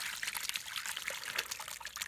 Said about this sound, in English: Then I'll pour off the slop